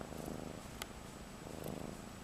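A pet cat purrs steadily up close, a soft continuous rumbling with gentle rhythmic pulses, alone and unaccompanied by any voice.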